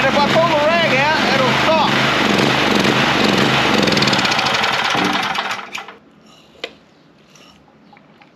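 A petrol generator engine runs loud and close with a rough, surging, uneven rhythm for about five and a half seconds, then cuts out, leaving faint clicks and low background noise.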